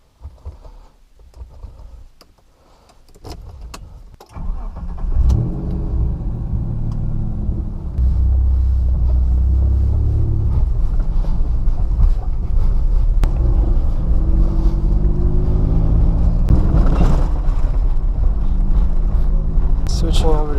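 A 1991 Mitsubishi Pajero short-wheelbase 4x4 with a rear air locker starts off and drives, its engine rumble climbing and then holding steady under wind noise and a voice talking over the ride.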